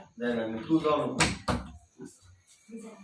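A person talks, then a touch-to-open dressing table door shuts with a short knock, followed by brief rustling and more speech.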